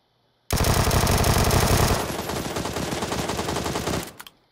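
A burst of gunfire: rapid, continuous shots fired outdoors, loud and close, rattling for about three and a half seconds before stopping abruptly, with no talk.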